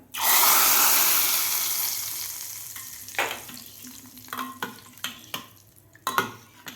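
Loud burst of sizzling as a hot tempering of cumin seeds and mustard seeds in oil is poured into cooked dal, the hiss fading over several seconds into scattered pops and spoon clinks.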